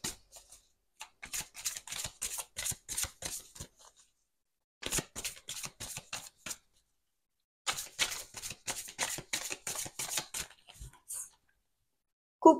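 Tarot cards from the Modern Love Tarot deck are slipped back into the pile and shuffled in three long bursts of soft, rapid riffling taps, close and quiet, separated by brief silences.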